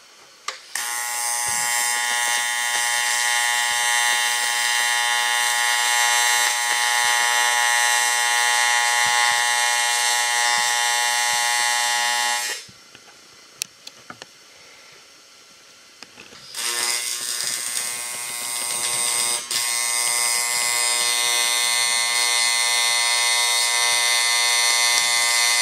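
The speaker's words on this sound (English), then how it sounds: "now we're going to be welding the bushing" Welding an aluminum bushing to aluminum on a powered trailer dolly gives a loud, steady electric buzz with harmonic whine, broken by a pause of a few seconds before resuming just as strongly.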